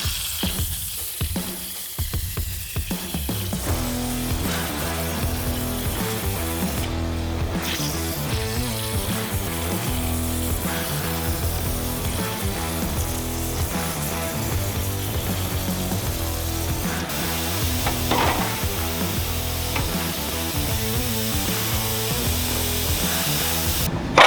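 Hypertherm Powermax 65 plasma cutter slicing through scrap aluminum, a steady, dense hissing roar with a buzzing edge that runs unbroken and fairly loud throughout, with no one talking.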